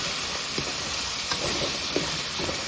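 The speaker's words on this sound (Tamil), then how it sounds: "இது நல்லா இந்த எண்ணெயிலேயே நல்லா வதங்கட்டும்." Chopped potatoes fry in oil in a pan, giving a soft, steady sizzling hiss with a few faint pops and scrapes, quiet and close.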